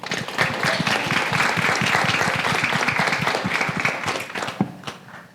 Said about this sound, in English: start by giving a big round of applause